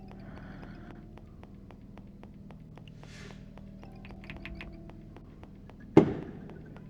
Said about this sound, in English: There was a firework and it scared me.